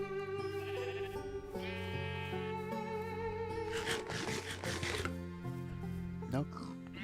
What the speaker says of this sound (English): Plenty of sheep.